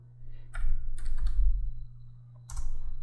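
A command being typed on a computer keyboard, heard as a few brief clusters of close key clicks separated by short pauses over a steady low hum, with no speech.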